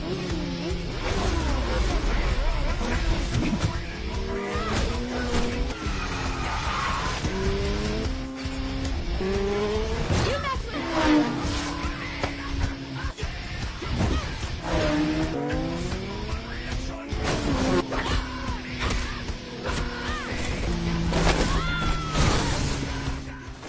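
Motorcycles roar through a film chase and fight between two women riders, with engines revving up and down in repeated rising sweeps, tires squealing and occasional hits, loud and continuous throughout.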